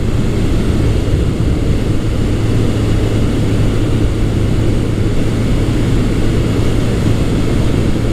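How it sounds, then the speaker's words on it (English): A Yamaha FJ1200 motorcycle engine pulling under way, a loud steady drone with wind rush, continuous and unbroken with no talk. "it's got that awesome FJ1200 motor, and right away it just pulls so nicely and cleanly"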